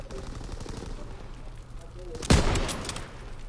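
Gunfire in Call of Duty WW2 online multiplayer: a sharp, loud burst of shots near the middle stands out over a background of quieter distant game noise, with no clear talking.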